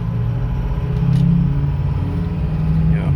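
A 2006 Ford F250 Lariat pickup accelerates at light throttle in third gear while its turbo spools up, giving a steady, loud, close engine rumble with a faint rising whine and no talk.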